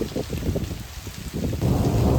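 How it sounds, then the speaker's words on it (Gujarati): Heavy monsoon rain pours down with wind and thunder, a loud, dense, unbroken roar that swells slightly toward the end, with no voices. "હા ગાજે હો ભાઈ વરસાદ"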